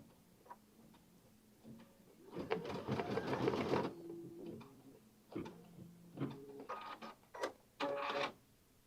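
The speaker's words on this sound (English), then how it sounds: "it's going to move and do that basting stitch." A computerized quilting machine sews a basting stitch on an edge-to-edge quilted tote, giving a rapid mechanical clatter for about a second and a half, then intermittent ticks, whirs and short motor bursts, close and alone.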